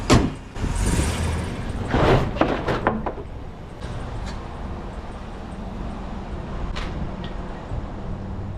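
A pickup truck with a newly replaced transmission pulls away, its engine and drivetrain rumbling steadily up close after a few brief thumps and creaks at the start, with no talking.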